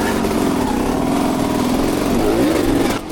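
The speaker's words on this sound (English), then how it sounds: "This time you can hear that the revs are a lot lower on the bike" A dirt bike engine runs at low revs on wet rocks, the rider slipping the clutch, giving a steady close buzzing drone with slight pitch wobble before it briefly drops off at the end, with no talk.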